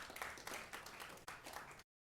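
An audience at a community candidates' meet-and-greet clapping, a short burst of scattered, moderately dense applause lasting under two seconds before cutting off abruptly.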